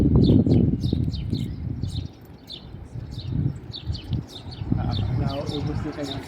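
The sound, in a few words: birds chirping outdoors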